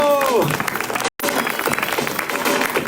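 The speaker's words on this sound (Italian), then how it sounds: "Un applauso Orazio!" A crowd applauds at a rap event. The clapping is thick and continuous, with a brief voice at the start and a momentary cut in the sound partway through.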